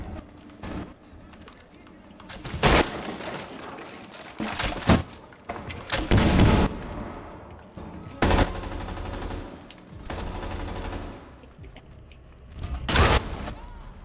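Gunfire from Rainbow Six Siege, with several loud bursts and single shots spread across the stretch, between quieter movement noises and a player speaking in between.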